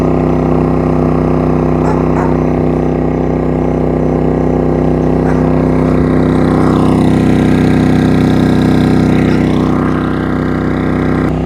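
A Pulsar GD400BN portable generator runs at high speed near maximum load while powering a small RV's air conditioner, a loud, steady, unbroken engine drone heard close up, with some faint talk over it.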